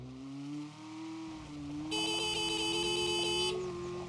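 Racing cars in the Car For Sale Simulator 2023 game drone past with a steady, rising engine tone, joined midway by a bright, sustained electronic beeping that cuts off after a couple of seconds.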